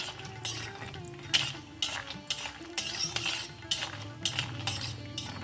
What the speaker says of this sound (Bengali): প্রথমে তেলটা গরম করে কতগুলো বড়ি ভেজে নেব।